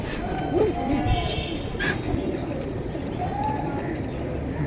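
Pigeons coo at a pigeon sale, with soft, repeated cooing calls close by over a busy background of crowd murmur and movement.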